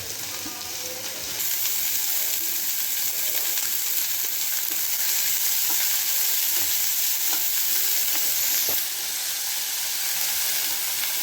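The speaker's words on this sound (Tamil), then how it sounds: "கீரை கூட்டு வந்து வெங்காயம்லாம் வதக்கிட்டு கீரை போட்டுட்ருக்காங்க." Spinach and onions stir-fried in a pan for a greens kootu, a loud steady sizzle and hiss with occasional scraping stirs, no talking.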